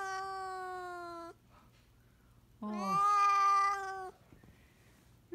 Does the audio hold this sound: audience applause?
no